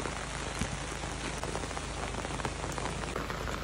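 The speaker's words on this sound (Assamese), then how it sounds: "পুৰা ধাৰাসাৰ বৰষুণ দিছে এতিয়া" A heavy downpour falls at night in a jungle, a dense, steady roar of rain hammering surfaces without a break, loud and constant, with no talking.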